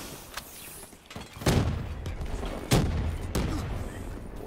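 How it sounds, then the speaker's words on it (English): Explosions and gunfire in the video game Black Ops 3: several sharp, loud blasts spaced about a second apart over a steady rumble of battle noise, fairly close. "A lot of bombs going off right now."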